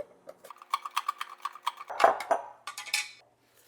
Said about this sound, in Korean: 이 오이는 깨끗하게 씻어서 꼭지를 제거한 다음 아주 얇게 썰어 줄 거예요.